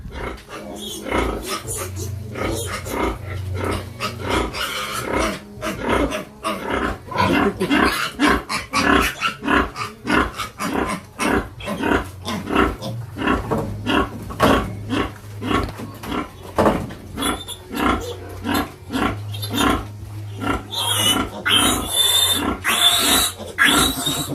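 Pigs in a farm pen for pigs and piglets grunt and snort continuously and loudly in close, rhythmic bursts, with an occasional squeal near the end.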